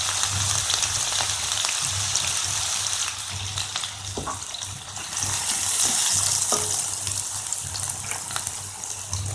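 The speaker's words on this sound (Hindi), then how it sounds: "इसे थोड़ा क्रैकल होने देंगे। इसमें डालेंगे कटा हुआ प्याज" Chopped onion frying in hot oil with whole cumin seeds for a semolina snack, a steady close sizzle and crackle with faint stirring scrapes, continuous and fairly loud, with no voices.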